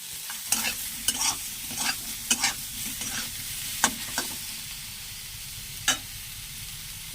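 Repeated scraping of a spoon stirring frying food in a pan, irregular clinks and scrapes over a soft, steady background sizzle.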